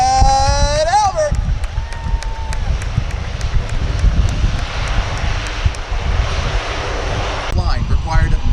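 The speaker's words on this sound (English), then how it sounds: "the Blue Angel C-130." A US Navy Blue Angels C-130 flies past at the 2024 Vero Beach Air Show, a loud, broad propeller-engine roar that fills the whole stretch, with brief voices at the start and end.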